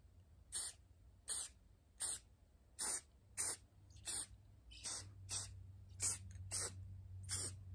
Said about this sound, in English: what you want to do now is just start spraying it.